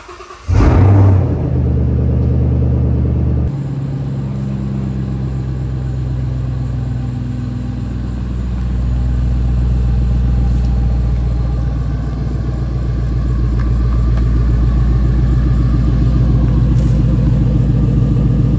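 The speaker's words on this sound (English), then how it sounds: "We have the Shelby out and about, driving it around" A Ford Shelby GT500 starts with a loud burst, then settles into a deep, steady engine rumble as it drives, heard close and strong throughout.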